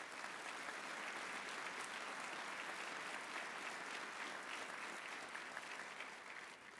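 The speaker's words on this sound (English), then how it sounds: "Please give Paula another round of applause." Applause from the audience at an Army change of command ceremony, a broad, even roar of many hands that stays steady throughout and tapers slightly at the close.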